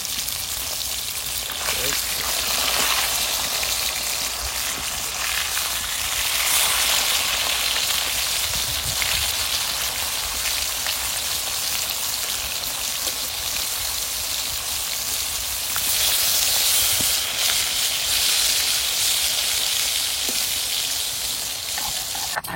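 A large river-caught snakehead fish fries in a pan in a village kitchen, a steady, loud, close sizzle that crackles without pause throughout, with faint voices now and then underneath.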